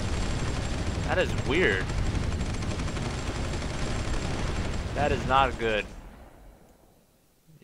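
Crackling, noisy bursts of explosions from the strategy game Supreme Ruler 2010 fill the mix with glitchy distortion, while someone speaks briefly twice over them before the sound cuts to near silence at the end.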